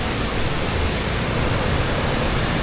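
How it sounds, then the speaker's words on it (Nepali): A big waterfall at Chame in Manang roars as a steady, loud wash of broadband rushing water, unbroken and close throughout. "चामीको बिगेस्ट झरना यही हो"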